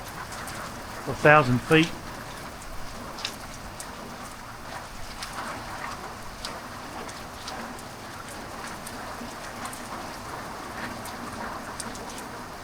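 Heavy thunderstorm rain falls in a steady, hissing wash with fine pattering, while someone speaks briefly near the start.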